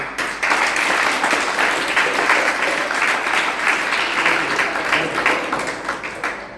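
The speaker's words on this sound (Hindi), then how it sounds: "इनके नाम पे तो जोर से ताली मारो।" An audience at a karate class and yoga nidra session in Rourkela, Odisha gives sustained applause in honour of the parents, dense steady clapping from many hands that fills the room for several seconds.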